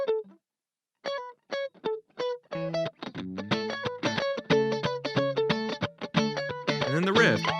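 An added electric guitar part in a second chorus: a few sparse, clean picked notes, then a denser run of rhythmic, effect-coloured chords and lines building in loudness.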